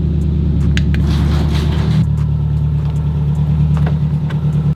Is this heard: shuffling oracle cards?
no